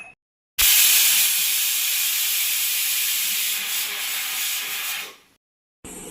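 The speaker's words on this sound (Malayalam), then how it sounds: "ഇനി നമ്മൾ ഈ കുക്കർ അടച്ചിട്ട് ഒരു 3 വിസിൽ വരുന്നത് വരെ വേവാൻ വയ്ക്കണം" A pressure cooker releasing steam while cooking Kerala-style pumpkin curry (mathanga pulungari): one loud, steady hiss lasting about four and a half seconds, then tapering off, with no other sounds.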